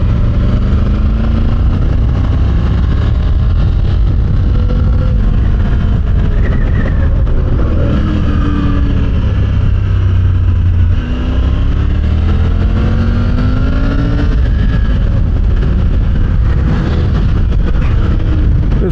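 Triumph Tiger 900 Rally Pro motorcycle engine revving steadily on the road, loud and close throughout with rising and falling pitch as the rider accelerates and shifts, no talking.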